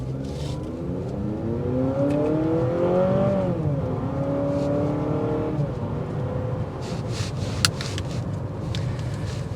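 A 2023 Honda CR-V Hybrid with 204 horsepower accelerates on a test drive. The engine hum inside the cabin rises steadily in pitch, then levels off under constant road and wind noise, and no one speaks.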